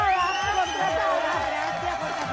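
A studio audience on a Spanish-language TV program cheers and whoops, many voices shouting together in a loud, sustained roar of excitement.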